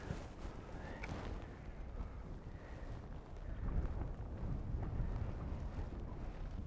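Wind gusts buffet steadily across open water on a smallmouth bass fishing outing, a continuous low rumbling roar that swells slightly midway, with no clear voices.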